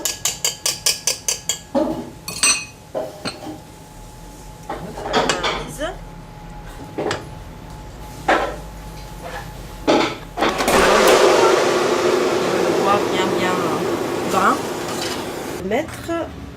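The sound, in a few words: whisk gently mixing cream in a bowl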